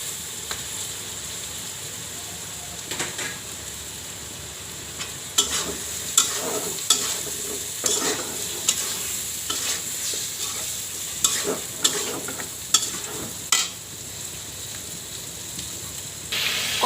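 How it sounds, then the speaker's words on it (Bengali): Potatoes sautéing in a pan with hilsa fish head and tail pieces, a steady close sizzle broken by repeated scraping stirs that grow more frequent in the second half, with no talk. "কষানো আলু দিয়া কষানো হয়েছে"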